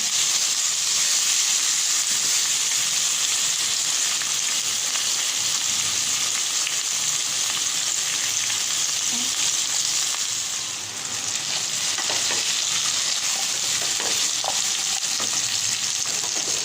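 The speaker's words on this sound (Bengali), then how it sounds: "এগুলোকে ভেজে নেব।" Pumpkin pieces frying in hot oil in a pan for a red lentil dish, giving a steady, dense, loud sizzle that hisses continuously up close without pause, with no talk.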